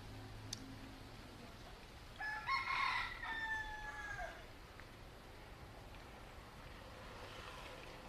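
A rooster crows at dusk in Key West near the Truman waterfront, one drawn-out call from mid-distance over a steady outdoor background hum, standing alone with no talk.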